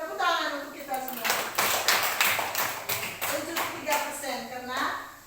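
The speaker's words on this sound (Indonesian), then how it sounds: "Tepuk tangan untuk kita semua." A classroom of students claps hands in several loud bursts of quick claps, with children's voices and talk heard between and around them.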